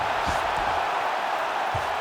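An arena crowd at a UFC fight between Paddy Pimblett and Benoit Saint Denis, a loud, steady roar filling the space while a commentator's voice speaks over it.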